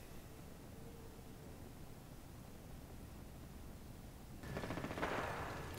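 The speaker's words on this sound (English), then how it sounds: "Here's the worst grenade launcher." A grenade launcher fires once in Fallout 4: a sharp, noisy blast bursts out near the end after several seconds of quiet hiss.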